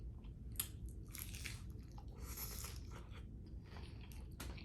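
Close, crisp bites and chewing of a crunchy taco, several irregular crunches in quick succession over a quiet background with no talking.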